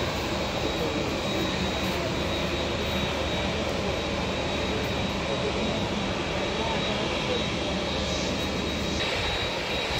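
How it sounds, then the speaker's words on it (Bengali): A Boeing airliner taxis slowly toward the runway at the Bauniya Battala plane-watching spot in Bangladesh. Its engines give a loud, steady, close roar with broadband rushing that holds for the whole stretch. "এই যে এখন আস্তে আস্তে করে বিমানটি আসছে রানওয়ের দিকে।"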